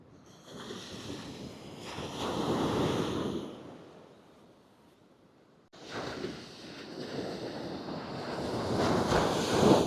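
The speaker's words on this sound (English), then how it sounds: "Waves are getting bigger." Ocean surf breaking at Copacabana beach, with two broad swells of crashing waves, a brief lull, then rising wash and roar toward the end, buffeted by wind noise on the microphone.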